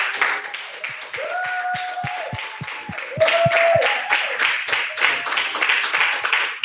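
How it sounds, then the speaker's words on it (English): Applause and scattered clapping at an early years graduation ceremony at an international school, a crowd of hands clapping steadily at moderate distance, with a few distinct close claps and some tonal sounds over it. "give a very volcanic round of applause to some other people"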